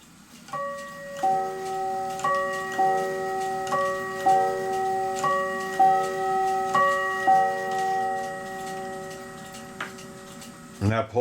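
A New England steeple clock strikes a repeating chime sequence of about a dozen bright, ringing tones that overlap and sustain. Its ticking sits faintly underneath, and a short clunk comes at the end.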